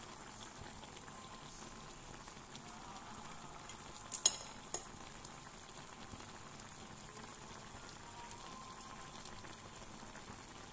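Paksiw na bangus, milkfish simmering with cabbage in a pot, gives a faint, steady low bubbling and hiss throughout, broken by a couple of brief clinks near the middle.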